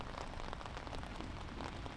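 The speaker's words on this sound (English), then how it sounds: "And here comes the rain." Rain begins falling across an open golf course during a high school varsity match, a steady broadband patter of drops on grass and surfaces that stays even and fairly close throughout, with no voices.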